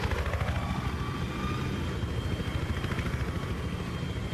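A helicopter sets down in the Battlefield 3 video game, its steady loud rotor chop and turbine whine filling the scene close by without pause.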